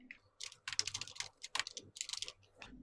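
Quick typing of code on a computer keyboard in a Unity editing session, a dense run of close, crisp keystrokes in uneven bursts over about three seconds, with no voices.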